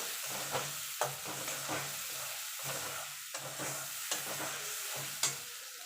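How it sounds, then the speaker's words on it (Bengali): Ground mustard paste is stirred into frying tilapia and eggplant, a soft sizzle broken by repeated scraping strokes of a spoon about once a second, close and fairly quiet, with no talking. "এখানে যে সর্ষেটা বেটে রেখেছিলাম সেটা দিয়ে দেবো ভালো করে নেড়ে নেব"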